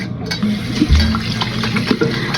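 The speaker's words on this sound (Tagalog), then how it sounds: "Habang kinukuskus natin sa kamay natin, may tubig na umaagos." Water runs steadily from a tap while hands are scrubbed with soap, a close, continuous wash with faint rubbing under the flow and no talking.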